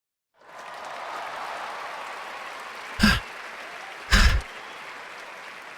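A crowd cheering and clapping near a clock tower in the video game Chrono Ark, a steady wash of applause at moderate distance, punctuated by two sharp, louder thumps partway through.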